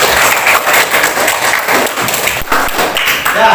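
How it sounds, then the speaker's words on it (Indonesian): Schoolchildren in a seventh-grade classroom clap for a classmate, a loud, close, uneven burst of hand claps with some thumps and taps, steady across the short stretch. "tepuk tangan untuk Sandi"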